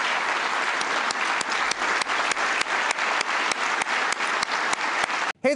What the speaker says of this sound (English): Let's give one last big round of applause to the recipients of the Medal of Valor